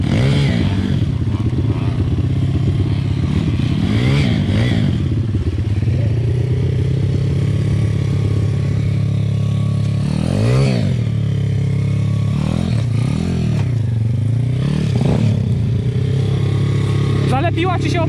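Pitgang 140XD pit bike being broken in, its engine running loud and close with repeated throttle blips and revs rising and falling, with people talking over the engine noise.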